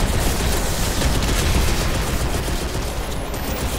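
Dense, continuous automatic gunfire in the video game Crysis 2, loud and sustained bursts of shots filling the whole stretch with no pauses.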